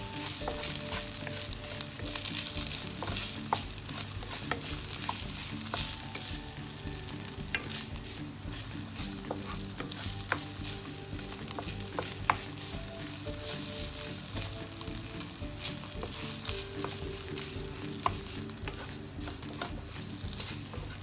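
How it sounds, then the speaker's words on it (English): Rice stir-fried with tomato ketchup in a hot pan for Japanese omelette rice, a wooden spatula scraping and tossing it under a steady, close sizzle, with quick clicks and taps of the spatula throughout. "Stir fry with a wooden spatula and add 2 tablespoons of tomato ketchup."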